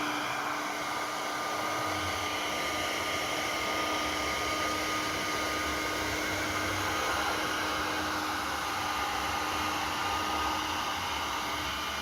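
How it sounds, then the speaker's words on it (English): A hair dryer blows over epoxy resin poured on wood, a loud steady whooshing hum with a faint tonal whine that holds constant for the whole stretch, close and alone without any talking. "Always blow it off first, like out here, so there's no contaminants."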